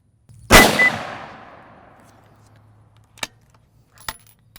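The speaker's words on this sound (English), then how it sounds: "let's go ahead and get a few shots downrange" A rifle with a Zeiss Conquest scope fires one loud shot downrange that rings out and decays over about a second, with fainter clicks after; no talking.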